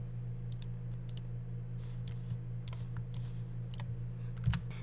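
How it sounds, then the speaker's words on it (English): Light computer keyboard typing, sparse clicks in small pairs and clusters over a steady low electrical hum, close and quiet with no talk. "So we start typing that in, create level sequence"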